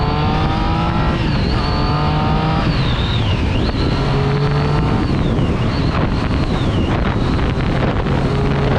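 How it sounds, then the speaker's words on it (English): Stock-engined Triumph Street Triple R motorcycle accelerating and revving, loud and close, with rising and falling whines through gear changes over steady wind rush throughout. "the sound the engine makes when you accelerate and when you rev it"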